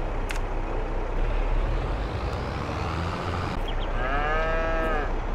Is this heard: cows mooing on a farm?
yes